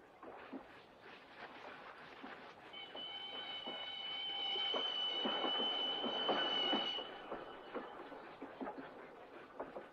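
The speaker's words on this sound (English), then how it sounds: "This train will stop at Tucumcari." A train rumbles past at Tucumcari with clattering wheels and a high metallic squeal rising in the middle before fading.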